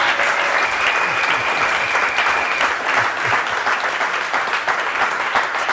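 A church congregation applauds and cheers for a newlywed couple, Idène and André, in sustained, dense clapping that carries steadily from start to finish with no voices standing out.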